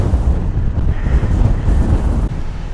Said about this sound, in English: But wow, the wind, I mean, it's better than 30 or 40.